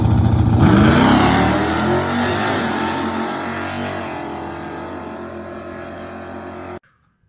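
A car engine revs hard close by, pitch climbing then settling into a loud sustained roar that slowly eases before cutting off abruptly.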